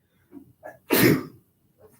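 One loud, close sneeze erupts in a quiet classroom, with soft brief vocal sounds just before it and a faint voice after.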